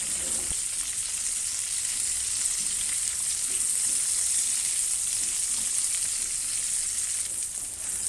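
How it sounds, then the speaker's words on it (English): Potato and cauliflower pieces fry in a pan for aloo gobi, giving a continuous, even sizzle that holds steady for several seconds, close and fairly loud. "I need to constantly stir the potatoes so that it will not stick to the pan"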